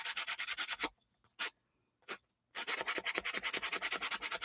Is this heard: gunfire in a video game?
no